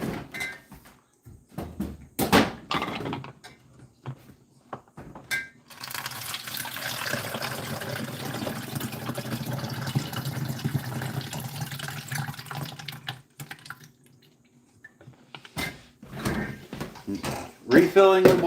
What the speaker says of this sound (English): I gotta put this down for a sec so I can fill up my water bottle